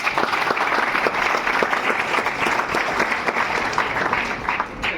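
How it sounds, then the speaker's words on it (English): A crowd at a coding club induction event claps steadily and loudly for about five seconds, a dense, continuous patter of many hands with no pauses. "Can you clap for them?"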